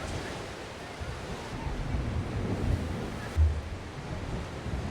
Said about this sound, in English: So the waves out off the pier here today are pretty high, actually.